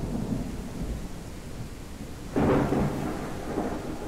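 Thunder rumbles low and steady under falling rain in the zombie sandbox survival game Outbreak Island, with a louder crack of thunder swelling partway through, no voices over it.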